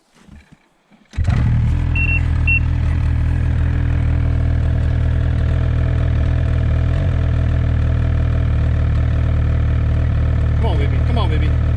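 2020 Ski-Doo Summit 850 Turbo snowmobile with stock clutching starts up and holds a loud, close, steady engine roar, with a few faint squeaks near the end.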